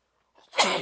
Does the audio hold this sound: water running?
no